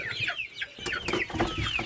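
Rooster on a farm among chickens and other livestock, giving a quick run of agitated clucks and squawks, close and fairly faint, with no voices over it.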